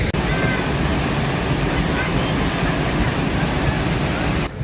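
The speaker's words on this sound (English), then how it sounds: "These have got to be some of the best waterfalls in the UK, without a doubt. Some of the most powerful." A powerful waterfall at Ingleton in Yorkshire roars as a loud, constant broadband rush that fills the whole stretch without a break.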